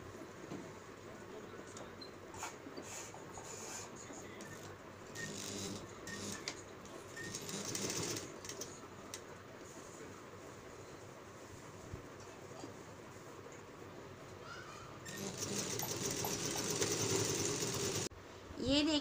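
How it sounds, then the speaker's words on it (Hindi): A sewing machine stitches petticoat panels together with a continuous low mechanical rattle and hum that grows louder toward the end, while a person talks over it. "तो इस दोनों को इस तरीके से पकड़ के हमें इसकी स्टिचिंग करनी है।"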